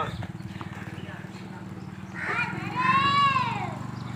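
Hooves of a black horse clip-clop in a steady rhythm at close range, with a whinny rising near the end and people talking underneath.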